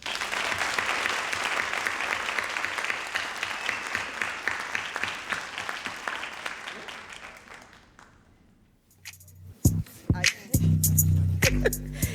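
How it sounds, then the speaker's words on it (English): Sustained audience applause fills a hall at the Sankofa Celebration 2025, then dies away, followed by a few knocks, a louder bump, and low murmuring voices. "One last round of applause."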